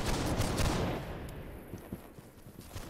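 A musket volley fired by a line of soldiers in Holdfast: Nations at War, a loud broadband crash of many shots together that fades over about a second into scattered distant pops and battlefield noise.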